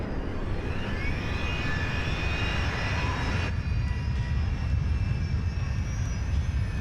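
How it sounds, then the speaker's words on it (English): A four-engine jet airliner's number 4 engine, a Rolls-Royce, roars steadily with a deep rumble and high whine, loud and continuous, swelling as it spools up. "engine number 4 roars to life"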